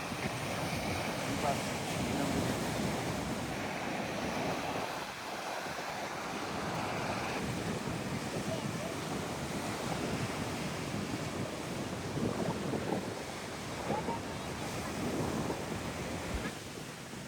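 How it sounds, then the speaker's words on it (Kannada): Strong wind buffets the microphone over crashing surf at Someshwara beach, a constant blustery roar with gusts rising and falling throughout. "ಗಾಳಿ ಸಿಕ್ಕಾಪಟ್ಟೆ ಇದೆ ಇವತ್ತು."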